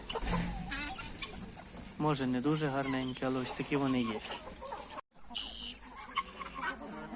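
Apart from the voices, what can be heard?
chickens clucking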